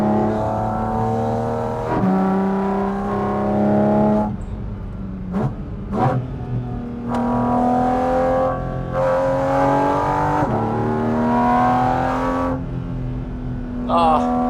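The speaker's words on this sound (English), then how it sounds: "I have to drive over the Gotthard Pass, which I'm on right now." A car engine climbing the Gotthard Pass in Switzerland, revving through several gear changes with rising tones that drop at each shift, close and prominent throughout.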